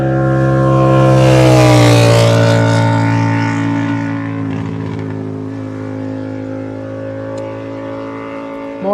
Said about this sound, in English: Noisy motorbike heading down the road